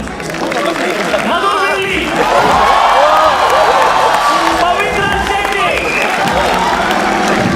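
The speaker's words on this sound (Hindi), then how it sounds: "टीम 2 के लिए तालियां एक बार।" A studio audience at a roast battle show claps and cheers for a team, with steady applause and whoops that swell midway, while a host talks over it.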